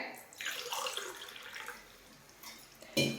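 About 1.5 cups of water splash and pour in a few uneven bursts into a cooking pot for egg biryani, a short gurgling stream with a clunk near the end.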